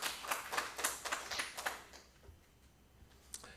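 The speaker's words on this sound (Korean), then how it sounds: "우리 이렇게 정직한 태우에게 다시 한번 박수해 주세요." Applause from a church congregation at a Vancouver service, a burst of hand claps for about two seconds that quickly thins out and fades, leaving a quiet room with a last stray clap.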